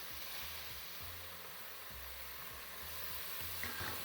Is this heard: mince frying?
yes